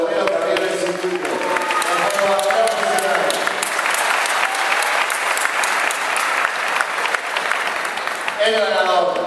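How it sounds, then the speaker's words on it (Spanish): A crowd at a full-contact fighting event breaks into loud, sustained applause, the clapping dense and continuous, with a voice audible at the start and end. "aplausos para todos los guerreros que habían recibido"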